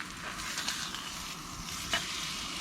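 Steak searing in a pan over a campfire while camping, a steady close sizzle and crackle of frying with a few sharper spits and pops, no voices.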